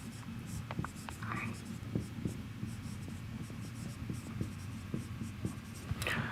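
Chalk or marker writing an equation by hand during a differential equations lecture, a steady run of short scratchy strokes over low room hum, fairly close.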